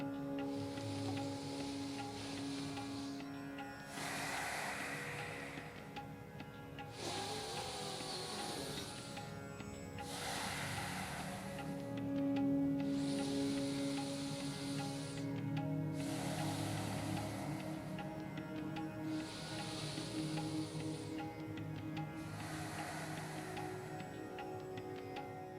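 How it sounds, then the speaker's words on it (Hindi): Several slow, deep breaths drawn in, each a soft airy hiss lasting a few seconds, repeated at even intervals over a faint steady background hum. "धीरे से सांस अंदर भरें"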